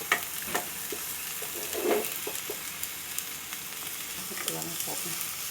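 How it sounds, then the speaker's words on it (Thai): Chicken noodles are stir-fried with an egg in a pan, giving a steady, close sizzle broken by scattered scraping and clinking strokes of a spatula, with no talk over it. "ใส่ซอสปรุงรสไปนิดนึงครับ ผัดให้เข้ากันครับ อันนี้พิเศษครับ ใส่ไข่ฟองนึงครับ"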